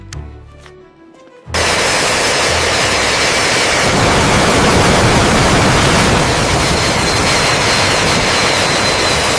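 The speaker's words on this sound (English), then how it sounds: "Fully restored KJ2000 airborne early warning aircraft taking off from restoration facility, 4 D30KP2 engines at full power." A KJ2000 airborne early warning aircraft with four D30KP2 engines taking off at full power: after a quiet start, a sudden loud, steady broadband jet roar that holds strong to the end.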